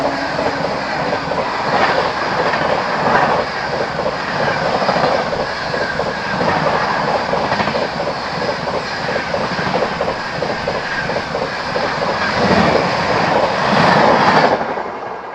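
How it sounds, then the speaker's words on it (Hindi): The Dibrugarh Rajdhani express rushes past close by at Dawar railway station, a loud sustained roar of rhythmic wheel clatter and rail clicks with occasional metallic squeal, easing off at the very end. "अब आ रही है अपनी डिब्रूगढ़ राजधानी"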